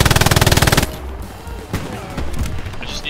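Machine gun fire in the Hell Let Loose video game: a loud, close, rapid burst of evenly spaced shots lasting almost a second, then echoing gunfire and distant rattles trailing behind.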